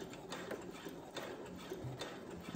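A Brother sewing machine runs steadily while stitching fabric, its motor whirring under a soft rhythmic ticking of the needle, close and continuous.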